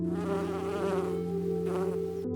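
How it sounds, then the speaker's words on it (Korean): Wasps that have built a nest under the eaves of a house buzz loudly and continuously with a droning, wavering hum, close to the microphone and with no voices. "요리코의 집 처마 밑에 말벌들이 집을 지은 것을 알게 된"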